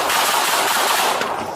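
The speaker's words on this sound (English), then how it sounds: "Shots fired!" Rapid burst of police gunfire during a confrontation with a knife-wielding man in Dallas, many loud shots fired in quick succession, dense and continuous with no talk.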